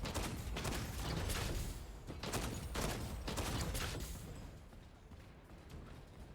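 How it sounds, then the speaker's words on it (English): Shotgun blasts from a character in the video game Exoprimal sound as a burst of several close, loud, punchy gunfire bursts in quick succession, tapering off into fainter noise. "this is kind of his little shotgun blast."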